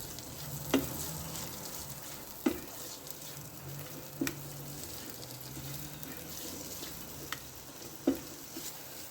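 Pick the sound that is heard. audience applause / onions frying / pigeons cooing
onions frying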